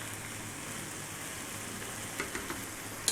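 Ground beef, already turned from red to grey, sizzles steadily in a pan, a soft continuous frying hiss with a few faint stirring clicks near the end.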